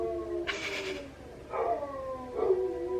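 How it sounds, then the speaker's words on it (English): A Labrador Retriever howls at the mailman in a few short, faint, drawn-out wails heard at a distance indoors. "he's howling. He's howling. At the mailman."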